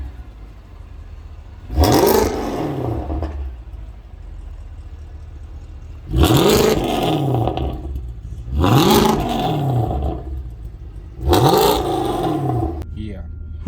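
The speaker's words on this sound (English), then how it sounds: "Mordecai, tell us what you did to this exhaust note, because of all your AMGs, this one is the loudest" A 2007 Mercedes-Benz CLK63 AMG with a loud aftermarket exhaust revs hard four times, each close, roaring burst rising and falling over a steady idle rumble.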